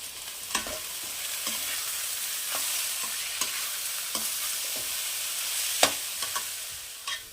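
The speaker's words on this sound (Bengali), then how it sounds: "এবার এই দুটোকে একসাথে আমি গ্যাসের ফ্লেমটা মিডিয়াম টু লো হাইতে এটাকে ভাজবো কিছুক্ষণ ধরে" Lentils for paneer khichuri stir-fry in a pan over a medium-low gas flame, a soft, even sizzle with occasional sharp spoon scrapes and taps against the pan, fairly quiet and without talk.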